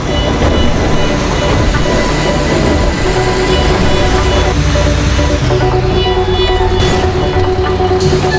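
A train in GTA V Online rumbles steadily along with a dense mechanical roar and clanking, loud and continuous, with faint voices and game-like ambience layered in.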